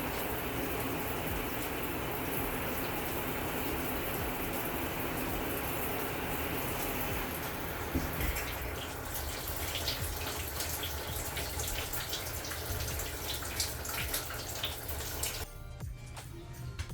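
Water sprays steadily from a tandem shower head fitted with a diverter valve, set in the middle so both heads run; a continuous hiss of spray that shifts in texture partway through, close and fairly loud, with no talking.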